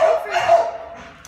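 A dog, a puppy, gives a short, high yipping bark with a slight whine, close and fairly loud, lasting just over a second.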